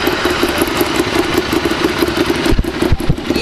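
A motorcycle engine idles steadily nearby with an even, throbbing pulse, a few sharper knocks near the end.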